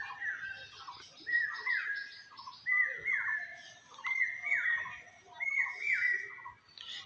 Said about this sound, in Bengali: এইসব পায়রাগুলো দেখুন